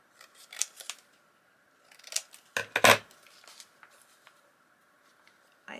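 Scissors cutting paper for a vintage junk journal, a few short snips in scattered bursts, with a louder cluster of cuts midway and quiet gaps between.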